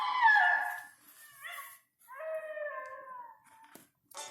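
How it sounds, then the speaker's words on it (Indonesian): A coyote howls in rising and falling wavering calls, several drawn-out phrases separated by short pauses, clear and fairly close with no talk. "Dan seekor anjing hutan ikut melolong."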